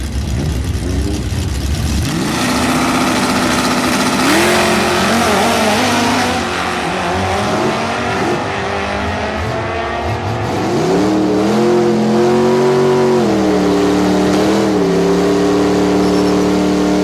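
A Mustang race car's engine roars loudly close by during a drag run, rising in pitch as it revs and accelerates and holding a strong, continuous snarl throughout.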